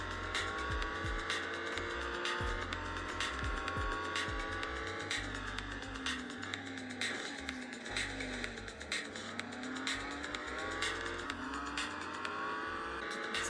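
A racing game played on a Huawei Nova 7 SE smartphone, with a continuous whining car engine rising and falling through gear shifts and repeated sharp tire squeals, loud and steady with no talk.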